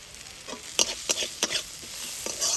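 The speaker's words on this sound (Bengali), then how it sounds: "এবার সব কিছু একটু ভালোভাবে ভেজে নেব" Onion fries with turmeric and red chili powder in a pan for masala pasta, a soft steady sizzle under a few sharp, close stirring scrapes.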